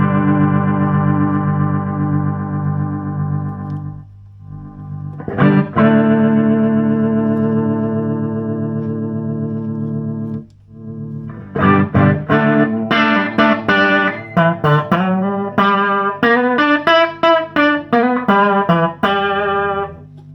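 Electric guitar through a Vox AC30 TB valve amp with the vibrato switched on, a muddy channel in need of a recap, playing sustained chords, then busier melodic lines with a wavering, effected tone. There is no talking, and the playing is loud and continuous.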